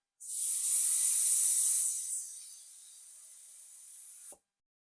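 Compressed air escapes from a tire valve stem as the core is pressed down: a loud, bright hiss that starts abruptly, eases to a softer steady stream partway through, then cuts off sharply.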